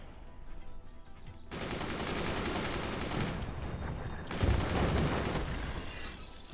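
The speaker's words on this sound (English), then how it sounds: "Nice job, machine gunners." Machine guns fire in the video game Forts in sustained, dense bursts, loud and close, with a brief lull and then a heavier volley near the end.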